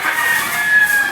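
A Hatch gamecock rooster crows once, close by, in a short hoarse call lasting about a second. No one talks over it.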